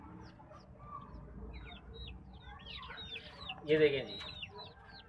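Clucking and chirping from Burman chicken chicks, a busy cluster of small calls with one louder squawk near the end, under faint background talk.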